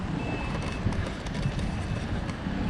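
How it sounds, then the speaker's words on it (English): Lisbon streetcar number 18 rumbling past close by, a steady loud rolling roar of wheels on rail with faint squeals, in busy street traffic. "Another streetcar, number 18."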